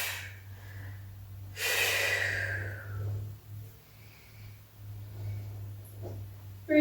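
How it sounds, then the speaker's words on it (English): Heavy breath bursts during a Pilates spine corrector exercise: a strong, close exhale around the middle, then softer breathing and faint movement noises, with no talking. "Using that great big exhale to come all the way up, the inhale to twist and to come over."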